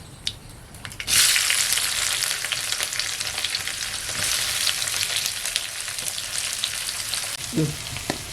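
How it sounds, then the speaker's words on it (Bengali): Cinnamon, cardamom, dried red chillies and chopped onion hit hot oil with a sudden loud sizzle after a quieter start, then settle into a steady, close crackling fry. "তেলে দারচিনি আর এলাচ দেব শুকনো লঙ্কা দুটো কেটে দেব পেঁয়াজ কুচি দেবো"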